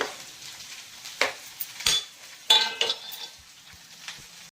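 Okra fry curry served from an iron pan: a few distinct metallic scrapes and clinks of a spoon against the pan and plate, spaced out over a quiet background.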